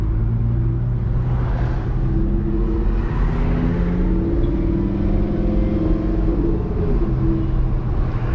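A modded Audi R8 V10 supercar is driven on the road, and the exhaust gives a continuous deep, loud rumble with shifting engine tones. It is heard from inside the car, with no talk.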